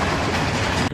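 A train rolls past on a railway line just outside a window, a loud, steady rumble with faint clickety-clack filling the whole moment before dropping away abruptly at the end.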